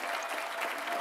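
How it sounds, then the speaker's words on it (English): An audience applauds tonight's honoree at an evening award event, a soft, even patter of clapping heard from a distance and sustained without break. "Can we give another round of applause to tonight's honoree?"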